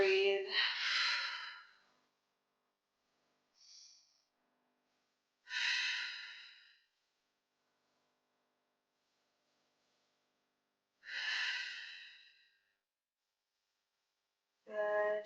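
Slow, deep breaths in a child's pose stretch, long audible exhales spaced several seconds apart with near silence between them, close to the microphone.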